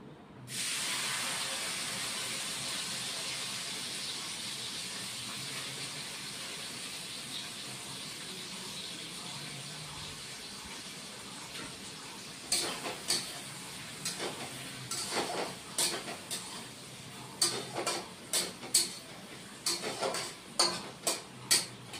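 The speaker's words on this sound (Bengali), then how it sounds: "এবার পেঁয়াজ ফোড়ন দিচ্ছি বন্ধুরা।" Chopped onions tempering in hot oil in a pan for a Bengali fish curry, a steady loud sizzling hiss that runs throughout, joined later by sharp irregular ticks and clacks of stirring.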